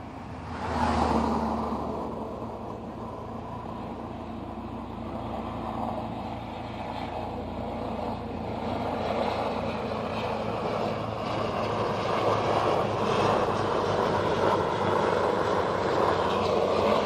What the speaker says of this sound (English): Here comes a helicopter.